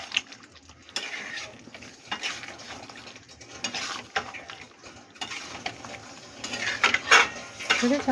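A spoon scrapes and clinks through potato and cauliflower curry cooked with ghee in a pan, irregular stirring strokes with soft metallic taps and a faint sizzle, close and moderately quiet.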